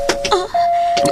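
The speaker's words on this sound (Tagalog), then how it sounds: "May nag-doorbell." A doorbell rings with a sustained electronic chime tone that runs through the moment, briefly dipping, while short voiced bursts sound over it at moderate loudness indoors.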